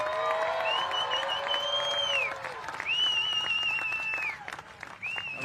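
A crowd at the awards ceremony of the Rip Curl Eddie Big Wave Invitational surf contest claps and cheers, with whoops and whistles rising over the applause before it thins toward the end.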